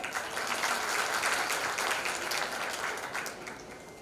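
A school audience claps for the backstage team, a moderate, fairly distant round of applause that swells briefly and tapers off over a few seconds.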